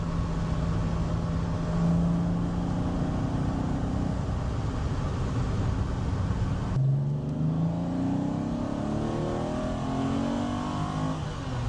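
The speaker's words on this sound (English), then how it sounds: "Like the noise of the exhaust on this." TVR Tamora sports car exhaust on the move, a steady deep drone that drops and then climbs again through rising revs under load, loud and close with no talking over it.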